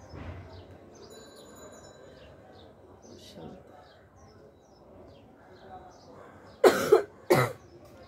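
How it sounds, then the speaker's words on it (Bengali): A person coughs twice in quick, loud bursts near the end, after a quiet stretch with faint bird chirps in the background. "কাশি তো আমি দেই।"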